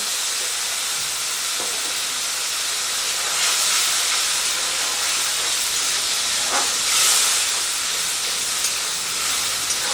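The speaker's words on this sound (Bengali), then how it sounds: "এটাকে 2 মিনিটের মতো ভেজে নেব" Tomato paste fries in a pan, producing a loud, steady hiss of sizzle and steam that runs unbroken for the whole stretch.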